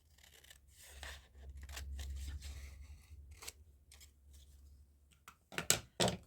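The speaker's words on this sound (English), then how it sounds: "Let's just cut a section out." Scissors cutting a section out of craft material, heard as close, quiet snipping and rustling that ends in a few sharper, louder cuts, with no talking.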